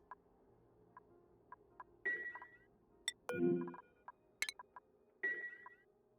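Electronic beeps and chimes from the video game Oxygen Not Included, a handful of short tonal blips spaced a second or so apart with a few louder, longer chirps, clear over a quiet game background.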